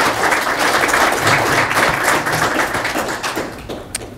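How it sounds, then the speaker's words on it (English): Audience applause at a Wallace Community College foundation brunch, a dense, steady wash of many hands clapping for about four seconds that gradually thins toward the end. "please stand up for a round of applause"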